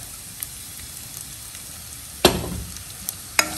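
Onion sizzling in a pan with sardines and cabbage: a soft continuous frying hiss, broken by a sharp clatter of a utensil against the pan and a couple of lighter knocks near the end.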